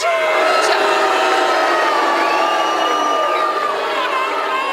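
A studio audience at a Big Brother UK live eviction reacts loudly and continuously, a dense wall of crowd noise with shouting and cheering throughout, no clear pauses.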